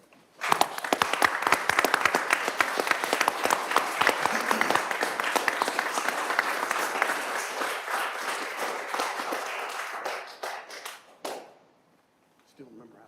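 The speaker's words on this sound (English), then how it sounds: "I would like to have a large Round of applause for our Veteran of the Month" A room at a county commissioners meeting breaks into loud, sustained applause for a Veteran of the Month, many hands clapping densely for about ten seconds before thinning to scattered claps and fading out.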